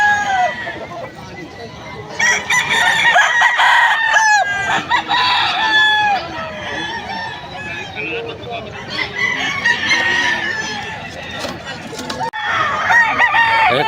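Crowds of chickens and roosters crow and cluck continuously at a Bocaue, Bulacan market, overlapping loud crows layered over a babble of people talking in the background.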